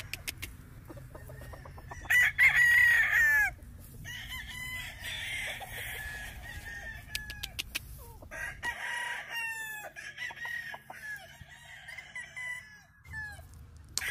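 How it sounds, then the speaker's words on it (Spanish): A giro-black cross rooster crows once nearby, loud and clear, on a farm, followed by more clucking and crowing from fowl around it against a low background hum. "Ahí como ven el gallito giro negro."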